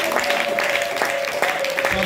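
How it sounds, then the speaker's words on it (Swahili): A church congregation claps for newly ordained pastors, a dense steady wash of applause filling the room with no pause, loud and close, with a faint voice or tone running underneath. "Tuwapigie makofi."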